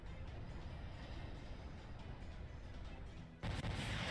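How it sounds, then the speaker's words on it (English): Explosion sound effect in the Fate/Grand Order Halloween event finale: a dense, sustained rumbling roar with crackling debris, then a sharper, brighter blast burst near the end, with no talk. "Explosion."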